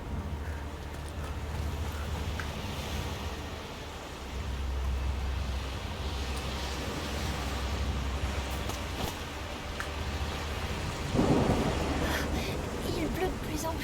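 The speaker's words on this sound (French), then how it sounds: "Il pleut de plus en plus fort. C'est rien, c'est juste un orage." Heavy rain pours in a thunderstorm in A Plague Tale: Requiem, a dense, steady roar of rainfall that swells toward the end, with a voice faintly audible underneath.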